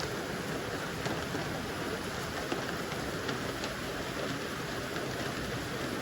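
Rain falls steadily outdoors, a dense, even hiss that holds at the same level throughout, with faint scattered patters and no voices.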